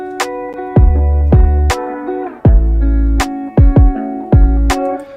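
Punchy, sharp rim shots strike in a steady beat alongside deep booming kicks and tonal synth notes, loud and close with no voices.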